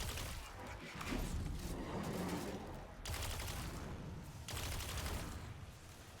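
Gunfire in Destiny: The Witch Queen sounds as dense, continuous bursts of weapon fire and impacts, fairly faint, with brief breaks between volleys.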